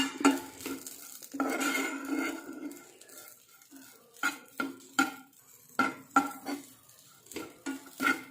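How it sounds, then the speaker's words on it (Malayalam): Curry leaves, ginger and other ingredients being fried in a pan for a coconut fish curry, with a soft sizzle under repeated sharp spoon-on-pan clatters and scraping stirs. "ഇനി ഒരല്പം കറിവേപ്പില. ഇതെല്ലാം കൂടെ നന്നായിട്ടൊന്ന് മൂപ്പിച്ചെടുക്കണം."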